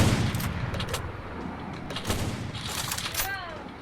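Gunfire from an AWM sniper rifle rings out in a video game, several sharp shots punctuating a dense, busy game mix, with a voice talking over it.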